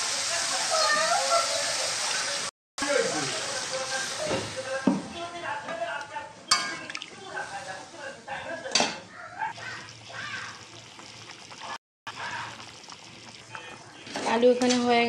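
Liquid pours steadily into a pan of pangas fish curry cooking with potatoes, a broad rushing splash with brief gaps and some clinks of utensils; a voice speaks over it at times.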